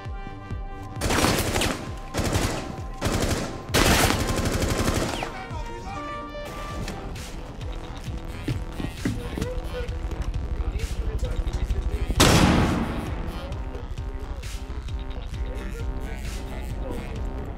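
Rapid in-game gunfire in Rainbow Six Siege Terrorist Hunt, loud bursts and cracks packed into the first few seconds, then another sharp shot later over a dense, busy game mix.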